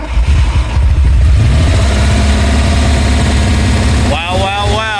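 Idling Lamborghini Countach with a longitudinally mounted engine runs as a steady low rumble close by, with a voice talking over it and a brief higher-pitched warble near the end.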